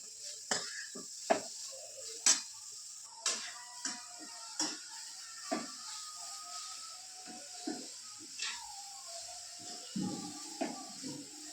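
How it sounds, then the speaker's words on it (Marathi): Carrots sautéed in ghee in a pan for gajar halwa: a soft, steady sizzle under regular, evenly spaced scrapes and taps of a spoon stirring. The stirring repeats about once a second, close up and fairly quiet. "गाजरचा कलर चेंज होईपर्यंत याला मस्त तुपात परतून घ्यायचं"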